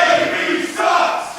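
A sold-out crowd at an indoor wrestling show roars and jeers loudly, a dense wall of voices swelling, dipping briefly and rising again.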